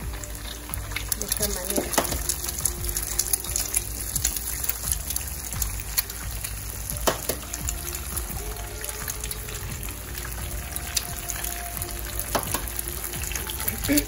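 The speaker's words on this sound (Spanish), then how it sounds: "les vamos a agregar los huevos. Los huevos van a ir estrellados." Eggs fry sunny-side-up for huevos poblanos, a dense, continuous crackling sizzle in a hot pan that stays close and steady throughout, with occasional clicks and a brief spoken remark over it.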